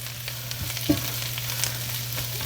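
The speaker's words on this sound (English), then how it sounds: "Let the green beans saute a little bit in the pan with the butter, the almonds," Green beans sauté in a pan with butter and almonds, giving a soft, steady sizzle close by, with a low hum underneath and a few light clinks and scrapes as they are tossed.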